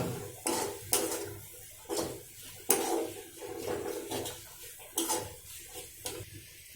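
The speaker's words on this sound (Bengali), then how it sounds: "এটাও একটু নেড়ে নিতে হবে।" A spoon scrapes and knocks against a pan while stirring tomato with turmeric and Kashmiri red chili powder for masala macaroni pasta. The strokes come close and irregular, with short clattering bursts and no talk.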